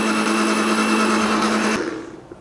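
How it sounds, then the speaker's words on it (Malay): A kitchen blender motor runs loud and steady with a strong whine, then abruptly cuts off and winds down near the end. "So kita cuba blender lagi."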